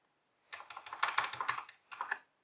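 Rapid mouse clicking while editing skin in Photoshop, a dense burst of close, crisp clicks for over a second, a brief pause, then a shorter second flurry, alone in a quiet room.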